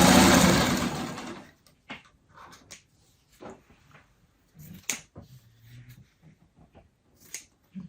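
Sewing machine stitching fabric pieces together without pins, a loud rapid motor hum for about a second and a half, followed by scattered soft handling clicks and rustles in a quiet room.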